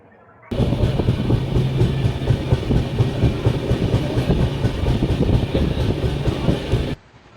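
A passenger train runs at speed, heard from inside the coach as a loud, steady rumble with rhythmic clickety-clack of wheels on rail joints, starting abruptly and cutting off near the end, without talk.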